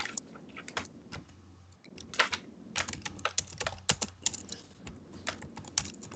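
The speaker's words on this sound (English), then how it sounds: "I can hear the typing" Steady typing on a computer keyboard heard over an online call, quick irregular key clicks with occasional heavier strokes, close and fairly quiet.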